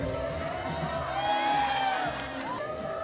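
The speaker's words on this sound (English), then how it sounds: "Once again, let's give a round of applause to our entourage." Guests at a country wedding reception in Western Australia cheer and whoop for the bridal entourage, a steady wash of crowd noise with rising voices, fairly close and sustained throughout.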